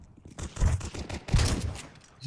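Gunfire in Counter-Strike 2 during a playtest match on a custom map, heard as a rapid, fairly faint volley of shots with rising bursts and a scattered, busy rhythm.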